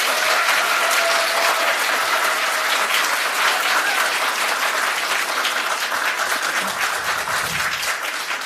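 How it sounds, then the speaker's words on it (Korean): Thick, loud audience applause rolls on without a break at a Democratic Party joint debate to elect its floor leader in the 22nd National Assembly. It stays steady throughout and eases slightly at the close. "수고해주신 두 분 후보자님들께 다시 한번 큰 박수를 부탁드립니다."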